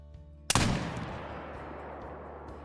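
A single loud muzzleloader shot in the Call of the Wild hunting game, aimed at a mule deer buck, bursts out sharply and then trails into a long rumbling echo that fades slowly over the following seconds.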